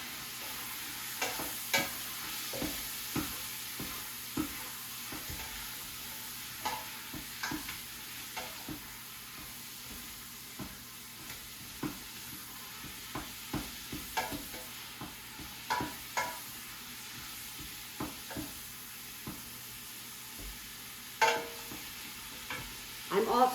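Beef, onions and garlic fry in a pot with a soft continuous sizzle, broken by frequent scraping stirs and clacks of a utensil against the pot, fairly quiet throughout.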